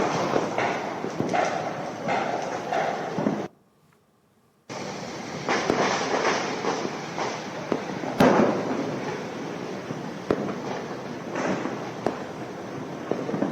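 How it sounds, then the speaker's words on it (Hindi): Diwali firecrackers and fireworks burst in a dense, continuous crackle of sharp pops and rattling bangs at an outdoor celebration, with a sudden second-long silence partway through before the barrage resumes. "जहां पटाखे फूट रहे हैं, आतिशबाजी हो रही है"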